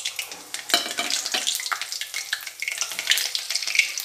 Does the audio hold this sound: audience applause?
no